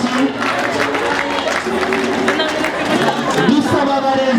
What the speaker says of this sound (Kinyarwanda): ni ukuvuga rero Saint-Archange murambera amashyi